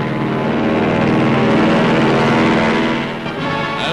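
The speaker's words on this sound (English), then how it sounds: "one bomber after another soars from the flight deck, pointed for Japan" Bombers take off from an aircraft carrier's flight deck in heavy seas during the 1943 raid on Tokyo. A loud, continuous propeller engine drone holds steady, then dips slightly near the end.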